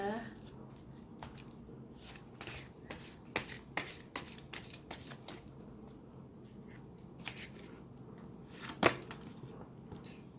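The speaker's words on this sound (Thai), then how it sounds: "จับไพ่ Oracle กันดีกว่า ขอดูไพ่ Oracle ชุดนี้ก่อนนะคะ" Oracle cards are shuffled and drawn by hand at a tarot-style reading, a run of soft riffling flicks and slaps with one sharper snap near the end, close and quiet.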